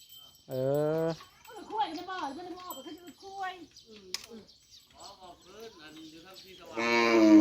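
A water buffalo lets out a loud, drawn-out moo at the start and another near the end, while people talk throughout in between.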